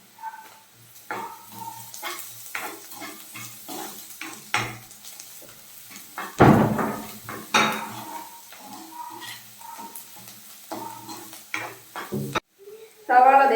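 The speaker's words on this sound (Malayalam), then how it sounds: "സവാള നന്നായിട്ട് വഴണ്ട് വന്നിട്ടുണ്ട്." Chopped onions sautéing in a pan for a Kerala-style green chilli beef curry, with soft sizzling, repeated stirring, and scraping and clinking of a utensil against the pan, louder toward the middle.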